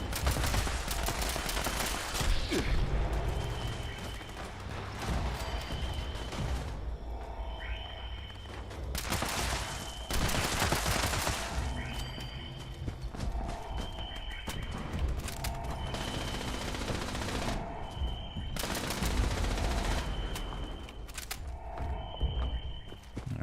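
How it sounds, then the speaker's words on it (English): Rapid automatic gunfire from a Vampire's SMG in the video game Fallout 76, loud sustained bursts broken by short pauses, with game effects and footsteps mixed in. "I'm going to actually switch back to that Vampire's SMG."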